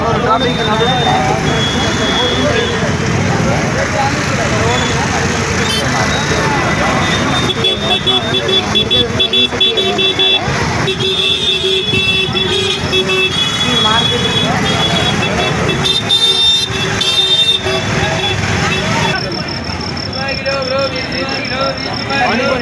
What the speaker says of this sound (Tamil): அவ்வளோ டிராஃபிக்